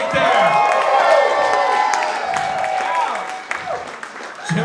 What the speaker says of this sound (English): So big round of applause for my dad